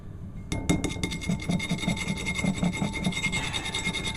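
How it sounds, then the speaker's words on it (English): Flour shaken through a sieve into a bowl while baking a flat fruit sponge, a steady rhythmic scratchy rasping with faint metallic clinks, continuous and close for a few seconds. "pour it into the sieve, shake it around so it breaks up the clumps of flour into the bowl"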